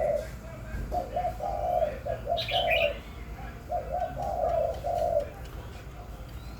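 Hybrid large dove in a cage gives repeated low cooing phrases in steady bursts, close by, with a few faint chirps and some background noise.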